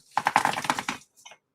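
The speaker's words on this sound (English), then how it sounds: "playing on a keyboard" Rapid clicking taps on a computer keyboard, about a dozen quick strokes in a close burst, then a brief pause and a couple of lighter clicks.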